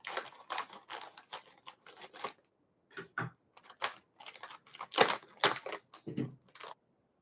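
A crinkly snack package is torn open by hand in a string of quick, sharp ripping and crackling bursts, close up and alone, with short pauses between pulls.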